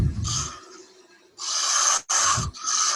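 A wood-turning tool slices across spinning wood while a finial is shaped on a lathe, giving close raspy scraping passes with one short break between, and no talking.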